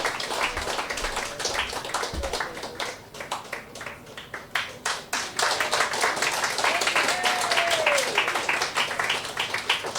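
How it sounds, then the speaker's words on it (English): At a poetry club evening, a small audience claps in uneven bursts, individual hand claps distinct and close, with whoops and cheering voices rising over the applause. "Keep the claps going as Emerson makes his way from the back."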